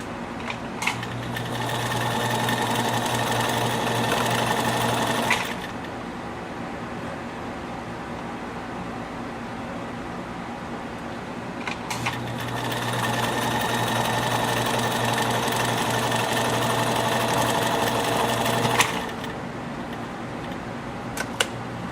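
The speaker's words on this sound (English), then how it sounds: "So we did our stitch 1, and then I adjusted it to be a bit finer here" A Kenmore 84 sewing machine stitching a scallop stitch runs in two long steady whirring bursts with a quiet pause between them, close up and with no voices.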